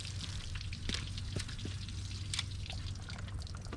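Water running from a hose at an offshore boat, a steady close spray with small irregular splashes and drips, continuous for a few seconds with no talking.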